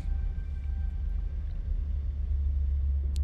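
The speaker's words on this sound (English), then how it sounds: "I try to avoid hyperspace storms." A hyperspace storm in the Starsector space game gives a continuous deep, steady rumble that sits low and loud throughout, with a faint brief crackle at the end.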